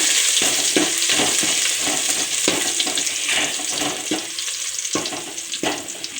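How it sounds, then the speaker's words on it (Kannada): Mustard seeds, cumin and crushed garlic frying in hot oil for a drumstick rasam, a loud steady sizzle broken by irregular crackling pops from the spluttering seeds. "ಈಗ ಸಾಸಿವೆ ಜೀರಿಗೆ ಚಟಪಟ ಅಂದು ಬೆಳ್ಳುಳ್ಳಿ ಕೆಂಪಾಗಿದೆ"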